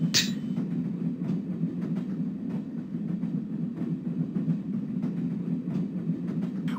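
A passenger train rolls steadily along in the Broken Sword video game, a continuous low rumble with faint rhythmic clacks throughout and no talking.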